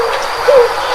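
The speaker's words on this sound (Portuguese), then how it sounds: "Se você disse que esse som é o som da pomba, você acertou!" A single soft, low dove or pigeon coo, brief and moderately close against a faint steady background.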